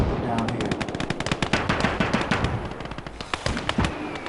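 Flak cannon and gunfire in a WWII Russian-front war strategy game, dense rapid bursts of shots crackling in quick succession, loud and continuous with sharp individual reports, a voice speaking briefly over the battle.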